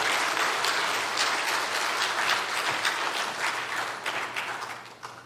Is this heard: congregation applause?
yes